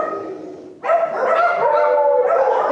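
A spayed purebred German Shepherd female vocalizing loudly and close, a sustained bark rising into whining howl-like tones with no speech.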